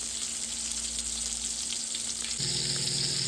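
Steaks with a fat cap searing in a hot pan, giving a constant close sizzle with a steady background hum that shifts partway through. No voices are heard.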